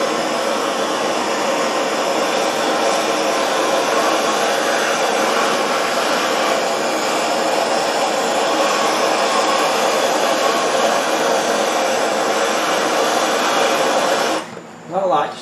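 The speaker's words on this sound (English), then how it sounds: "I'm going to heat it first. Just because it's rusty." A heat gun or torch applies heat to a rusty shifter part on a 1998 Subaru Outback, giving a steady, loud blowing hiss that holds evenly before cutting off near the end.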